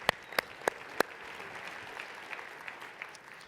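Audience applause at a conference event, a steady spread of many hands clapping, with a few sharp, distinct claps standing out near the start before the sound settles into an even patter.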